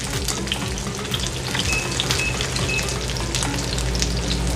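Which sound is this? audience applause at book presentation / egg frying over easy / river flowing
egg frying over easy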